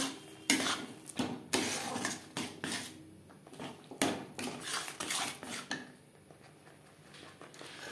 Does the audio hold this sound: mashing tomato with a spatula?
yes